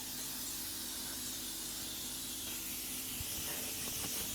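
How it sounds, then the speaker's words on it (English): A steady, faint hiss of canola oil cooking spray coats a tray, continuous and even, with a few light taps near the end. "So we're going to lightly coat it in canola oil instead of that butter that I have sitting right here"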